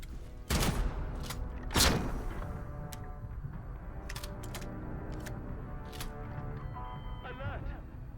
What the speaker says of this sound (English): Shotgun's very effective at close range.